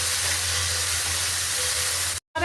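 Garlic and spices sizzle in a hot pan, a steady loud frying hiss that continues evenly, then cuts off abruptly near the end.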